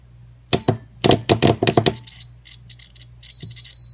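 A solenoid being tested for continuity with alligator clips clicks sharply several times in a quick cluster, close and loud, followed by faint high ticking and a soft click.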